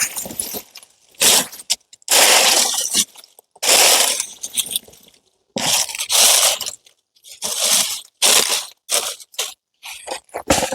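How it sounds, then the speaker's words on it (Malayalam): Handfuls of dry leaves drop onto soil over a planted elephant foot yam piece, giving crisp crunching rustles in separate bursts with short quiet gaps between them. No one speaks. "ഇനി നമുക്ക് കരിയില ഇട്ട് കൊടുക്കണം."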